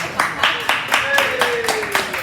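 Pub comedy-show audience clapping in steady rhythmic unison, a brisk beat of hand claps under some murmur, with a brief tonal whistle or squeak sliding through the middle.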